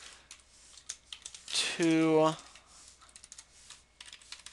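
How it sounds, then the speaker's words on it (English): Computer keyboard typing, a scatter of light clicks and taps around a brief spoken word from a nearby voice. "we just need to type those in"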